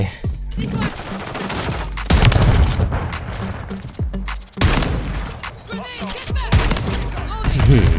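Shotgun blasts from a Reclaimer 18 in Call of Duty Warzone III ring out in repeated loud bursts, several sharp booming shots spaced through the gunfight with in-game explosions and clatter around them.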